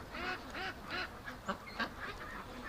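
A duck with an injured, limping toe quacks several times in a row, short nasal calls at moderate distance that are fairly soft, followed by a few quieter clucks. Nobody speaks.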